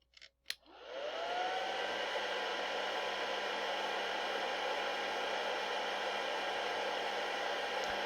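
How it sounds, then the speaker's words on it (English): A hair dryer switches on after a couple of clicks and blows steadily, heating an electronic component, a loud constant whooshing roar with a faint whine, continuing without pause. "take my hairdryer out, heat it up"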